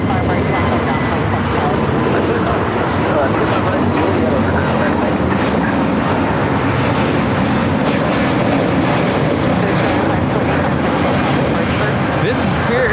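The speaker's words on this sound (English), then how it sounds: "This is Spirit Airlines 2520 taking off to Milwaukee on the A320 Neo" A Spirit Airlines Airbus A320neo takes off at LAX, producing a loud, sustained broadband jet roar that holds steady and dominates throughout.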